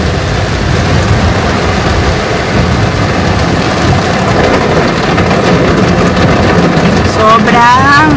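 Heavy typhoon rain drums loudly and steadily on a car while driving in Manila, a dense continuous roar of water with road and engine rumble beneath it.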